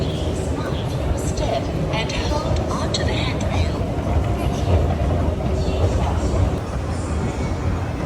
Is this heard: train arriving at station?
yes